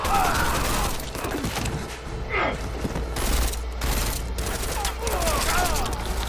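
Gunfire in the Deus Ex Mankind Divided video game, dense bursts of shots and mechanical clatter in a loud, continuous firefight, with voices and game effects mixed in.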